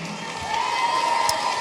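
Theatre audience at a children's Christmas show applauding and cheering the stage directors, a moderate wash of clapping with crowd noise and an occasional shout.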